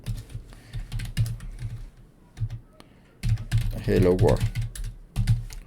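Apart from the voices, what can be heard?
typing code on a computer keyboard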